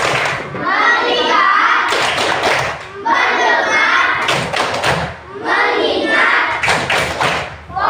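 Children in a classroom doing a rhythmic clap routine, loud close bursts of claps in a repeating pattern between spoken chant lines.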